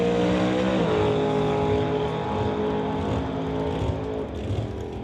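A Chevrolet S10 and a Camaro launch down a drag strip, engines roaring loud and rising in pitch at first, then a sustained mechanical drone as the cars pull away.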